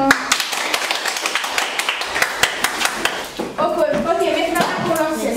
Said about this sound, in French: Applaudir pour nous.